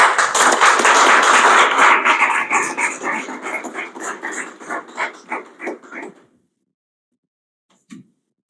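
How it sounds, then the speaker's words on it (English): Audience applause at an American Premier League cricket event, loud dense clapping that thins into scattered individual claps over about six seconds, then stops, leaving silence and one last faint clap. "Another round of applause."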